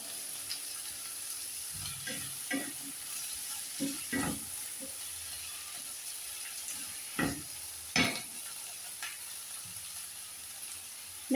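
Curry leaves and vegetables sizzle steadily in a hot pan, with louder scrapes and stirs of a spoon breaking through at irregular moments; close and clear, no talking.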